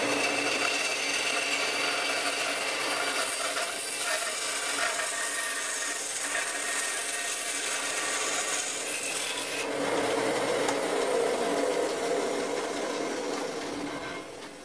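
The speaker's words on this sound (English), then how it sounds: "I'm just going to come to the bandsaw and run it through here" A bandsaw cuts through wooden fret marker plugs in a steady, continuous rasping whine, close and unbroken, with the cutting tone shifting slightly partway through and no talking.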